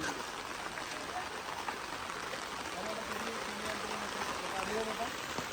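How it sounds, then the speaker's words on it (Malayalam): Heavy rain falls steadily on a house construction site where a concrete pillar is being cast, a dense continuous hiss throughout with faint low voices or activity underneath. "നല്ല മഴ പെയ്തുകൊണ്ടിരിക്കുന്നു"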